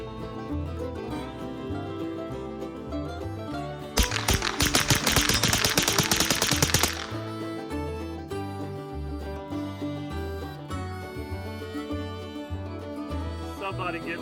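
Rapid semi-automatic gunfire from a Freedom Ordnance FG-15 rifle on a shooting range: a dense, loud burst of shots lasting about three seconds, set over steady background music.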